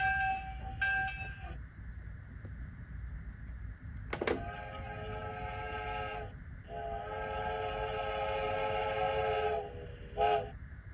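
A small electric Walt Disney World Railroad model train set whirs steadily along with a faint clatter, punctuated by short tonal horn blasts and a longer whistle, close by and fairly quiet.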